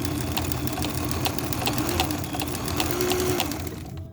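Kenmore 1813 sewing machine running a stretch stitch, a close, steady mechanical whir with rapid rhythmic needle clatter throughout, stopping abruptly just before the end.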